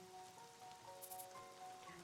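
Steady soft rainfall inside the Troubleshooter video game, a continuous quiet patter on surfaces running under faint tonal background music, with a few brief bright chimes partway through.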